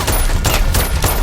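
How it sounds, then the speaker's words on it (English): Gunfire hits water around a man in a river, a rapid volley of sharp cracks and splashy bursts that arrives in about three pulses, loud and close. "soon gunfire begins to hit the water around him"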